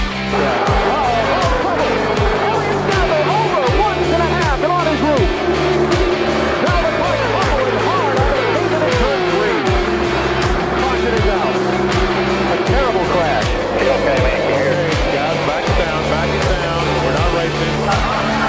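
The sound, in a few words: NASCAR race cars racing on track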